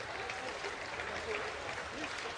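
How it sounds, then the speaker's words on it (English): Scattered applause from a group of supporters outside 11 Downing Street, a soft, distant patter of clapping with a faint voice underneath. "You can hear some applause"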